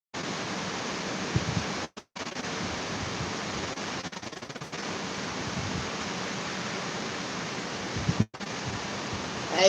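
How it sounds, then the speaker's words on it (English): Heavy rain pounds steadily on a rooftop, a loud, dense and unbroken hiss that drops out for a moment a few times and then returns. "I guess you guys are hearing the rain on the rooftop"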